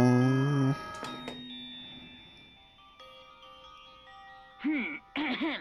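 A ding dong chime rings out in the Danganronpa video game, a few sustained bell tones followed later by short wavering chime bursts, close and clear over quiet game audio.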